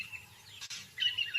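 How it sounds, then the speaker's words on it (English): Small insect-eating birds at a lion kill carcass give faint, thin chirps and high twittering calls, a brief cluster of tweets rising toward the end against a quiet outdoor background. "At the sixth day, insect-eating birds find the carcass."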